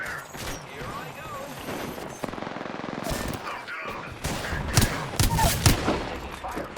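Gunfire in the Apex Legends video game: a rapid automatic burst rattles out near the middle, followed by sharper single and clustered shots and mechanical clicks, with in-game character voices speaking throughout.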